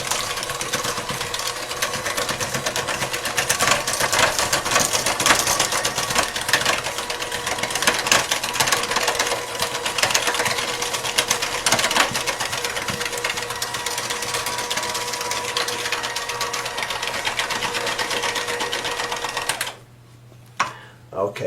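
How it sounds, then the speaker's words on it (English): A hand-held electric beater runs on low, mixing sugar cookie dough in a bowl, giving a steady mechanical whir that holds for about twenty seconds before cutting off abruptly. "So now I'm going to turn this beater on. I'm going to beat it on low for about 30 seconds."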